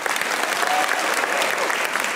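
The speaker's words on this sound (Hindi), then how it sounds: "तो तालियां बजाइए" Studio audience applause on the Pakistani comedy talk show Hasna Mana Hai, a loud, dense, continuous clatter of many hands clapping that holds at an even level for the whole stretch.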